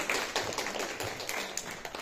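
Audience applause at a school report-card ceremony for eleventh-grade students at a lyceum, a steady patter of many hands clapping at moderate volume from a crowd indoors.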